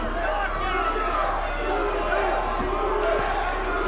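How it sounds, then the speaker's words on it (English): A boxing crowd at a local fight night chanting the fighter's name Ruben, a broad, steady roar of many voices with rhythmic shouting and occasional thumps, heard at a distance throughout. "A chant of Ruben here."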